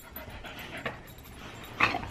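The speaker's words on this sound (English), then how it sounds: "Bad ass dog" A dog pants quickly and steadily at close range, then lets out a brief whimper near the end, with faint background noise.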